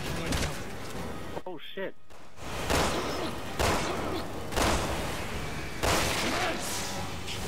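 Repeated bursts of gunfire in the video game Resident Evil 6, loud, rapid volleys with brief pauses between, mixed with game effects while someone talks over them.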